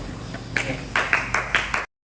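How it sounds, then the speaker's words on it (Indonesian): Brief clapping by students in a high-school religious education classroom, applauding a classmate; a few sharp, close claps come in small uneven bursts before stopping abruptly. "Ya, tepuk tangan dulu buat temannya."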